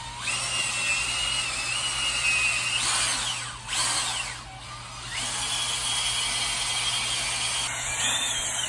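A power drill with a paddle runs steadily, mixing thinset mortar with water in a bucket; its whine holds for several seconds, dips briefly twice midway, then resumes close and loud.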